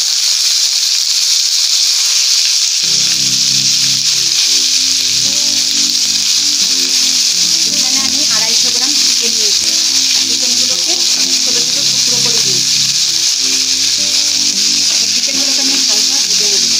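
Chicken pieces frying in hot mustard oil in a pan, a loud steady sizzle that runs the whole time, with a low rhythmic tonal hum starting a few seconds in and sitting under it, and no talk.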